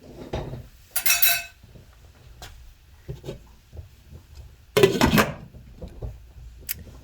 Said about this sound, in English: Put the lid on and cook.